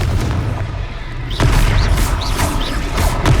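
Blasting spell explosions in the Hogwarts Legacy video game: a run of heavy booming bursts with sharp crackling tails, loud and close, repeating roughly every half second after a brief lull.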